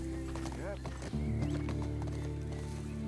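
Rhythmic clip-clop of horse hooves with a brief whinny in The Last of Us Part II, layered over steady game music and a voice talking.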